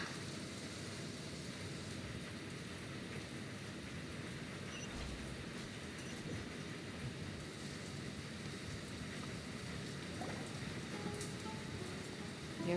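Steady rain falls in the Genshin Impact game world, a faint, even hiss of drops that runs throughout without pause and has no talk over it.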